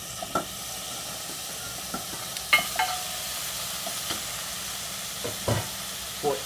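Broccoli sizzles softly in a buttery pan while being stirred, with scattered scraping clicks and small spatters over a low, steady hiss.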